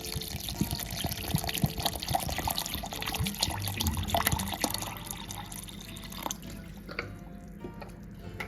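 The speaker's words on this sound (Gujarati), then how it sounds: "તેમાં 2 ગ્લાસ ઠંડુ પાણી એડ કરીશું." Two glasses of cold water pour into a mixer jar over crushed lemonade mixture, a close splashing, trickling stream with dripping and sloshing that thins out and trails into scattered drips.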